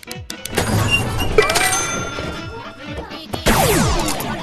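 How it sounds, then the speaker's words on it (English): A flashbang goes off in the VR game Animal Company, a loud crash with clattering impacts followed by a ringing, warbling tone that sweeps and lingers, close and harsh. "Flashbang."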